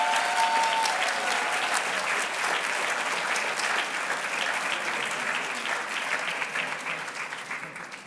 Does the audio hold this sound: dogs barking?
no